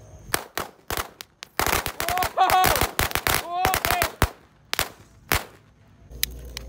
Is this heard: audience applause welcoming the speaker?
no